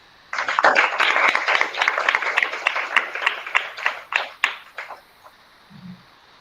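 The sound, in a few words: audience applause after a lecture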